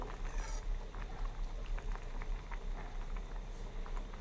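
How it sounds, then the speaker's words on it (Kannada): Vermicelli boils on high flame in a pot nearby, water bubbling steadily with a constant soft gurgling and a low hum underneath. "ಮೂರು ನಾಲ್ಕು ನಿಮಿಷ ಐ ಫ್ಲೇಮಲ್ಲಿ ಶಾವಿಗೆ ಕುದಿಸಿದ್ರೆ ಸಾಕು"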